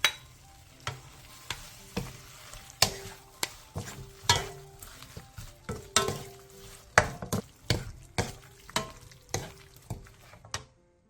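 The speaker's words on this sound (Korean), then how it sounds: "마지막으로 들기름 3분의 2스푼, 통깨, 대파, 양파, 고추를 넣고 1분 정도 더 볶아 마무리해주세요" Aged kimchi stir-fried in a pan with perilla oil, sesame seeds, green onion, onion and chili, heard as a soft sizzle under repeated scraping and tapping strokes of a utensil against the pan, close and fairly quiet.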